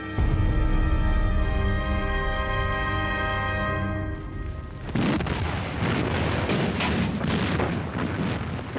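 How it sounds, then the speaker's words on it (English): Naval artillery from Allied battleships bombards German bunker positions on the Atlantic Wall. A sustained rumble gives way to a dense barrage of heavy booms and blasts, loud and continuous, with no talking. "Allied battleships begin a full-scale bombardment of the German positions."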